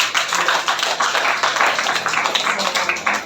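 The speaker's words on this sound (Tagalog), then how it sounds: "Pumalakpak ng malakas ang mga kabilang sa Universal Church." A Universal Church congregation claps loudly together, a dense, steady patter of many hands filling the hall without a break.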